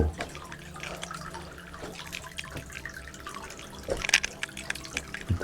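Water trickles and drips inside a cave, a quiet, steady flow with a few sharper drips near the end, faint and echoing, with no clear talk.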